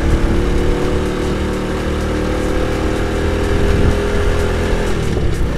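A 1997 Suzuki Shogun motorcycle engine labors steadily at half throttle up a steep hill in cold, foggy weather, a loud, close, continuous drone with slight shifts in pitch.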